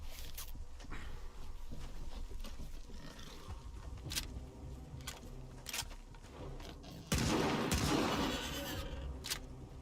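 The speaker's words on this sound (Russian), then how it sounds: "Что-то мне звуки выстрела тут раньше анимации." Gunfire in the video game S.T.A.L.K.E.R. 2: Heart of Chornobyl, with several sharp isolated shots spaced through the passage, then a louder, denser burst of firing near the end, played over low ambient rumble.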